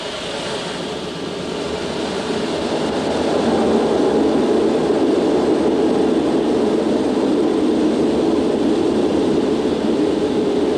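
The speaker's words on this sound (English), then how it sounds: "Okay, we're cleared for takeoff." A Concorde airliner on its takeoff roll, heard from inside as a loud, steady engine roar that swells after a few seconds and then holds at full power.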